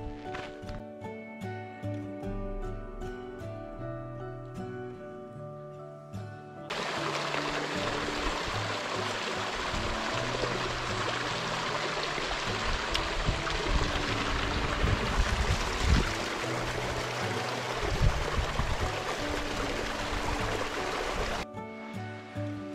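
Flowing stream water along a hiking trail in Sequoia National Park rushes and burbles steadily for most of the stretch, starting abruptly after a stretch of music and cutting off near the end.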